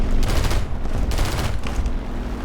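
Rapid 20 mm cannon fire from a Focke-Wulf FW 190 F8 fighter in War Thunder air combat, loud dense bursts hammering continuously with a brief gap near the middle, over steady engine drone.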